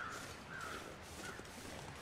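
Crows caw a few times in a faint, distant, spaced-out series across a quiet snowy wilderness in The Long Dark, with no talk over them.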